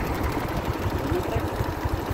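A tractor engine running nearby at a highway construction site, a steady low chugging drone with a faint rhythmic clatter, continuous and moderately loud, with no talking.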